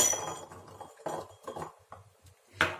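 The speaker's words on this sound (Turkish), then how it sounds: "Ve sarımsakları iyice eziyorum." Garlic cloves crushed with a spoonful of salt in a mortar, heard as close, irregular clinks, knocks and grinding scrapes of the pestle, with short pauses between strikes.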